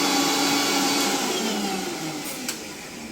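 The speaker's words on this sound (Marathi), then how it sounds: "हाताने फेटणार नाही तर डायरेक्ट मिक्सर मध्ये फेटणार बघा" A kitchen mixer grinder whisks batter with a loud, continuous whirring drone that stays steady throughout, no voices.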